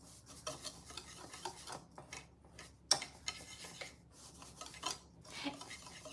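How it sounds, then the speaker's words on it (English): A whisk scrapes and clinks against a bowl while mixing a brown sugar mixture for coffee cake, a quiet, steady stirring rhythm with a few sharper taps, heard alone. "And I'm going to whisk this together."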